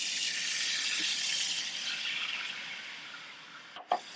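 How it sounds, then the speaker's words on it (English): A cold cornstarch and liquid mixture pours into a pan in a soft, continuous trickling flow, then ends with a brief splash near the end. "Now I'm going to pour that into our pan"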